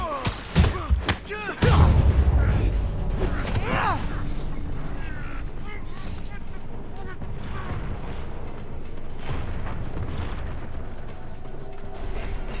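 An explosion goes off in the Marvel's Spider-Man game, a loud booming thud early on that settles into a rumbling game mix, with voices talking over it.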